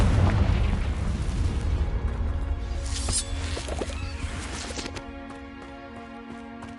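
Casting the Confringo fire spell in Hogwarts Legacy sets off a loud, close blast that rumbles and crackles as it slowly decays, while sustained musical tones rise underneath and carry on after it.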